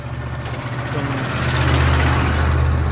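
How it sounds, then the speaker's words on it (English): A truck rumbles by on a street outdoors, its low engine drone building and growing louder over a few seconds as it passes close, with faint voices underneath. "excuse us for the sound of the truck going by"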